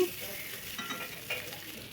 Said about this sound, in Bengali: আলুগুলো আমি লাল লাল করে ভেজে নিয়েছি